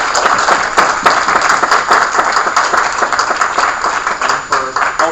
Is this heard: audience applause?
yes